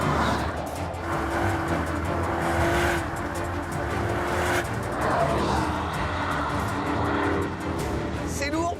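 Either an Audi RSQ8 or a Porsche Cayenne Turbo Hybrid SUV accelerates hard on a track, its engine roaring and surging with tire noise throughout, while someone talks over it.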